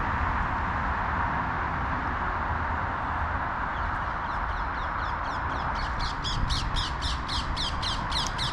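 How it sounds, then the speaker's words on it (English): A ring-necked parakeet squawks in a fast run of harsh, evenly spaced calls that start faintly and grow louder toward the end, over steady outdoor background noise. "Ringneck parakeet, been around here for about 2 weeks."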